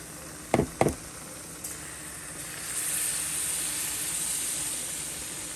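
Two quick knocks as saltfish fritter batter drops into a pan of hot oil on the stove, followed by a soft, building hiss of frying that continues quietly to the end.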